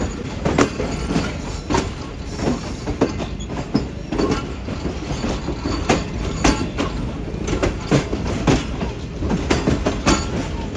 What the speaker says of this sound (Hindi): तो ये प्लेटफॉर्म नंबर 3 पर जा रही है ट्रेन हमारी ट्रैक चेंज करते हुए